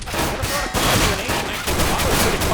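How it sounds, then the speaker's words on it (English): Gunfire during a Counter-Strike: Global Offensive esports match at DreamHack Winter 2014, rapid dense bursts of shots crackling continuously with brief gaps, loud and close, with a caster's voice faintly mixed in. "Picking up a headshot on Deviant."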